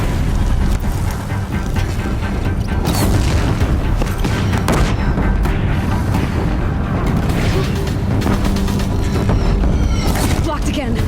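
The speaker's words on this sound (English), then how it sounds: "If the Deathbringers keep firing, this bridge will go." Deathbringer war machines firing in the video game Horizon Zero Dawn, heavy booming blasts and explosions repeating over a dense rumbling battle din, loud and close, with scattered impacts and debris.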